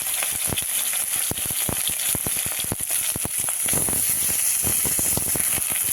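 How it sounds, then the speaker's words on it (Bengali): Prawns frying in hot oil in a wok give a steady, loud sizzle with crackling pops scattered throughout, and no voices. "চিংড়ি মাছটা ভেজে নেব এখন"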